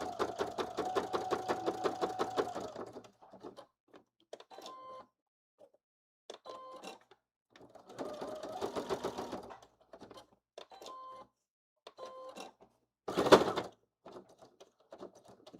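A sewing machine stitches a fanny pack in several bursts, rapid mechanical chattering that starts and stops with quiet gaps, and one louder whirring burst near the end, close to breaking a needle.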